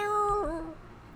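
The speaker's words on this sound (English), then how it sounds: "Oh, it's a mad cat." A cat meows once inside the Hello Charlotte 2 game, a single tonal, slightly wavering call that bends downward partway through, close and clear against a quiet background.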